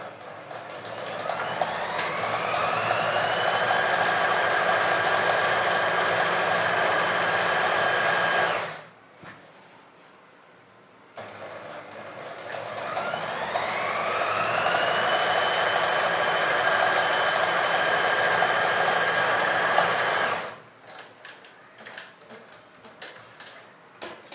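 A sewing machine stitches trouser seams in two long steady runs, each a fast rhythmic whirring clatter lasting about nine seconds, separated by a quiet pause with small handling clicks.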